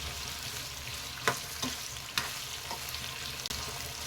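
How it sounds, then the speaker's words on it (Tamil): Raw plantain slices fry in hot oil for Tamil-style vazhaikai varuval, giving a soft steady sizzle, with a few sharp clinks and scrapes as the pieces are stirred. "இப்போ நம்ம வாழைக்காயை ஒரு 3/4 வேக்காடு வறுத்து எடுக்க போகிறோங்க"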